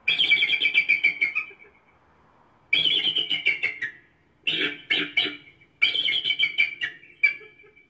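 Bird deterrent calls blasted from a loud Bluetooth speaker: four bursts of rapid, shrill chirping and whistled bird cries separated by short silences.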